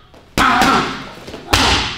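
Two hard leg kicks slam into a pad during a power combination drill, each a sharp, close thud that rings out briefly before fading.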